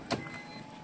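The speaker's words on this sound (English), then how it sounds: "Okay, shut the door." A Toyota Alphard 350S door shuts with one brief, soft thud followed by a faint rattle and quiet cabin hum.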